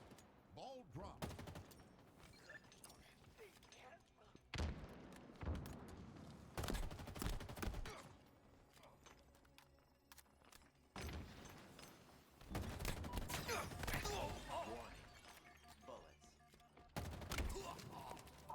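Video game gunfire comes in loud bursts of rapid shots separated by short lulls, with a player's voice talking at times between and under the firing.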